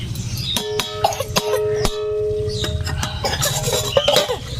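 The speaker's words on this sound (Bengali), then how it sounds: "শুনতে খুব কাশি হয়েছে, কাশছে।" Several short coughs burst out one after another close by, mixed with clinks of utensils and a faint background hum.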